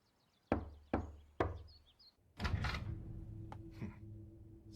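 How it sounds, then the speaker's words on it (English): Three sharp knocks on a house door, spaced evenly and fairly close, followed by a door opening and a steady murmur of indoor room noise. "Should I knock?"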